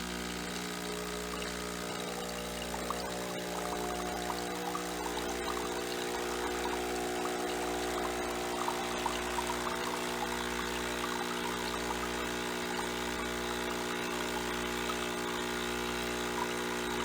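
A Breville Barista Express espresso machine pump drones with a pulsing hum during descaling rinse, while water flows and gurgles continuously, running unbroken for a long stretch.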